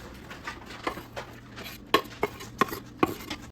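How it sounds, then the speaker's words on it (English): Onions go into a stew pot and are stirred, making quiet, scattered clinks and knocks of a utensil against the pot, with a few sharper taps near the end. "Now we're going to add the onions."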